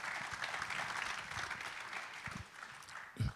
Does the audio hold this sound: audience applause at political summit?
yes